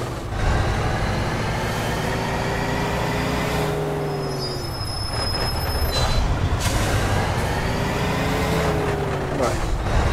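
A truck in the video game Mafia II driving with a steady loud engine drone, its pitch sweeping slowly up and down over about ten seconds.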